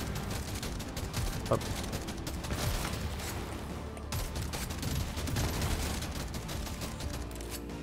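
Steady automatic gunfire rattles without a break in the Deep Rock Galactic Survivor game, dense and continuous, with other game effects layered through it and a sharp blip near the start.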